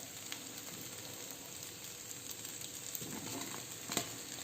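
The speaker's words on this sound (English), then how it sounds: "At this stage, I'm going to add our golden fried paneer cubes into it." Golden fried paneer cubes tipped into a pan of spicy pasta with vegetables, giving a soft, steady sizzle with a few brief clatters and stirring scrapes near the end.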